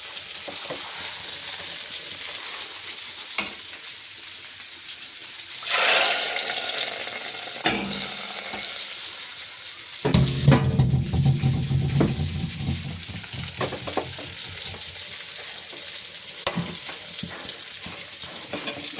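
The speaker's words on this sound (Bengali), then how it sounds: "পেঁয়াজ ভাজা রসুন ভাজা শেষ, এবার ডালে ঢেলে দেবো" Fried onion and garlic tempering hits a pot of dal, giving a loud sizzle that flares sharply about halfway through and then settles into steady crackling frying noise.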